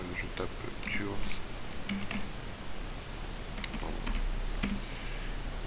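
Light, soft keystrokes tap on a computer keyboard as a search term is entered in Blender's user preferences, faint clicks over a steady hiss with quiet speech in the room.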